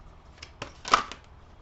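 Tarot cards being shuffled by hand, heard as a few quiet papery riffles and flicks spread across about a second and a half, faint and close with no talking.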